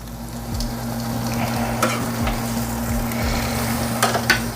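Hot dogs sizzle and crackle steadily in a hot pan with a constant frying hiss, and a utensil scrapes and taps now and then as they are turned; no talking.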